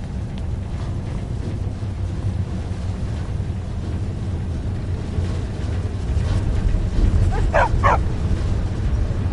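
Dogs bark in a video game set at a guard post, two brief sharp barks near the end heard over a constant loud rumble of wind-like ambient noise.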